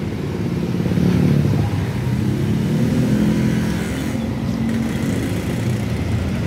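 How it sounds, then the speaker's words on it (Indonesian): A Premier White Horse bus pulls into a Jakarta bus stop, its engine rumbling low and steady, with road traffic noise around it and no voices. "Nah, ini masuk satu unit bis Premier White Horse."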